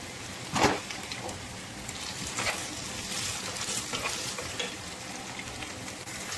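Red onion and garlic sauté in a hot pan for chicken wings adobo, giving a soft, steady sizzle with a few brief louder crackles, faint and close, with no talking.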